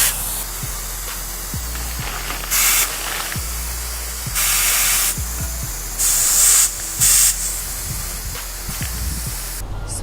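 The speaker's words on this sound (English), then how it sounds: "make sure you set your compressor to high pressure, and then you feed the air in" Compressed air hissing from a compressor into a KTM 125 SX front motorcycle tire in loud bursts over a steady compressor drone, with several distinct sprays spaced a second or two apart.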